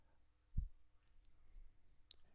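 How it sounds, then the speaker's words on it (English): A computer mouse gives a few faint, sharp clicks in a quiet room, spaced irregularly, with a soft low thump near the start. "right click on the chart"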